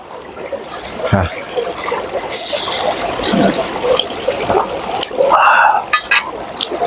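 Water trickles and splashes steadily nearby, with intermittent bright chirps and rustling over the flowing sound.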